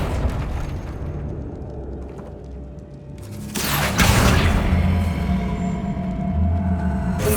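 Confringo spell explosion in Hogwarts Legacy: a low mechanical rumble gives way to a sudden loud blast, then a broad, crackling roar and lingering rumble that stays loud to the end.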